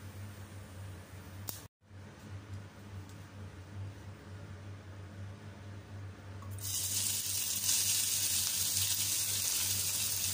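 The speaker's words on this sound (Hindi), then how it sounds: "दो मिनट के लिए सौते करेंगे।" Boiled shredded chicken sautéing with cumin in a hot pan, a steady close sizzle and hiss that grows noticeably louder partway through, under a low constant hum.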